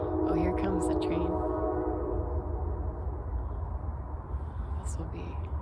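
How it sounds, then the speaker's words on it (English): A train rumbles past close by, a loud, steady roar with a horn-like tone sounding, and faint voices at the start and end. "Oh, here comes the train."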